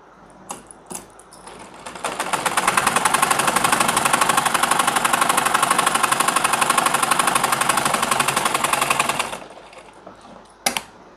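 A sewing machine sews a firm seam on trouser-style pajamas in one sustained, fast, rhythmic run of about seven seconds, framed by a few sharp handling clicks before and after.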